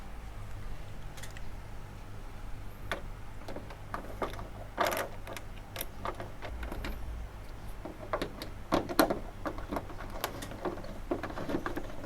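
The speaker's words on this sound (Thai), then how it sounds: "แล้วเราก็ใช้ไขควงถอด ขันน็อตออกครับ" Small clicks and ticks from a screwdriver loosening the screws on an air conditioner unit, sounding as a run of scattered, fairly faint metallic taps over a steady low hum, with no talking.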